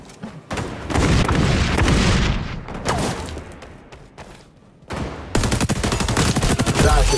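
Frag grenade blast and gunfire in the XDefiant shooter game: heavy booms followed by dense, sustained volleys of rapid shots, loud and close, with a brief lull before the shooting resumes.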